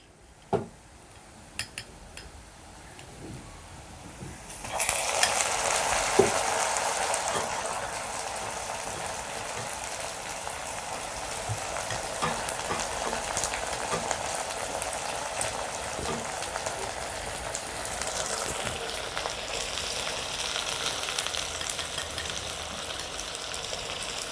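Boiled mutton sautéing in oil in a pan for mutton varuval, a soft sizzle that jumps sharply louder a few seconds in as the meat goes in, then holds as a steady, fairly close frying hiss with occasional faint clinks.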